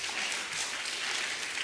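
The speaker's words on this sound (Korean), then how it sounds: "우리 세 분께 여러분 환영하는 박수를 한번." Brief, soft clapping from a church congregation welcoming visitors at a Korean Sabbath worship service, a short even patter of hands with no voices.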